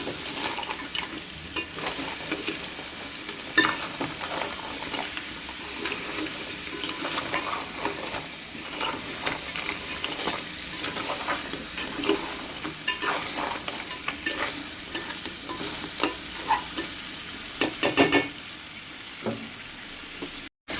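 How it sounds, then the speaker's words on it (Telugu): Crabs fry in a pan for a crab curry, giving a steady, close sizzle with scattered stirring scrapes and clicks, heard alone without talk. "ఇలా ఒక రెండు మూడు నిమిషాలు బాగా వేయించుకొని"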